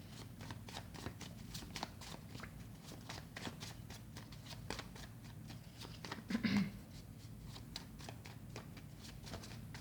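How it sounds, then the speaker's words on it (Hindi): A deck of cards being shuffled, a soft continuous riffling patter of flicking cards, steady and close, with a brief louder rustle midway. "Last shuffle."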